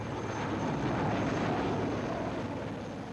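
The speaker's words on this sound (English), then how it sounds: "The army helicopter was on the ground only a few seconds." Army helicopter on the ground with rotors running, a loud, steady roaring drone that fills the whole moment with no pauses.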